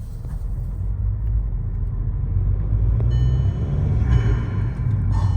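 Inside a VW MK5 fitted with a new cold air intake while driving, a steady low engine and road rumble drones continuously, with a faint higher tone rising toward the end.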